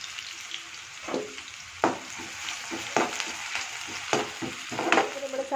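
Sliced onions fry in hot oil for biryani, a close, continuous sizzle punctuated by repeated stirring scrapes and ladle knocks about once a second, with no talking.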